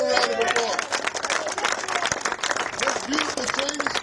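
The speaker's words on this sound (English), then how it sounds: "Give him a round of applause." Crowd applause and cheering at a political rally in North Philadelphia fill the whole stretch, loud and continuous, with dense overlapping claps and voices calling out throughout.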